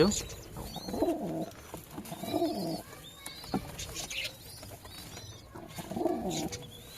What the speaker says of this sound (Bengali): পায়রা দুটো খাঁচায় রয়েছে